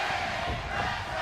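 A wrestling arena crowd roaring and cheering at a TNA Hardcore Justice main event in the Impact Zone, a dense, loud, continuous wall of voices.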